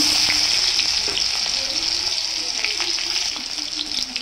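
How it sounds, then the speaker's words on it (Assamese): Onions hit hot oil in a pan where fish has just finished frying for an Assamese fish curry, giving a loud, steady sizzle with brief spatter crackles throughout. "এতিয়া মাছখিনি ফ্ৰাই হৈ গ'ল পিঁয়াজখিনি দি দিওঁ"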